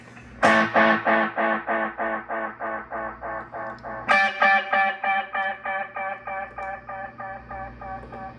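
An electric guitar runs through a Boss GX-10 with its Space Echo effect, with two bursts of picked notes each trailing into a fast, evenly spaced chain of repeating echoes that slowly fade.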